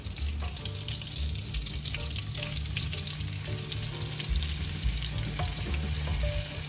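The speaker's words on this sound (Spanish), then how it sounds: "Vamos a saltear estos camarones por 4 minutos aproximadamente, o hasta que cojan el color rosadito." Salted shrimp seasoned with pepper sautéing in a frying pan, cooked outdoors on a beach, make a loud, continuous sizzle with a low rumble beneath and occasional crackles.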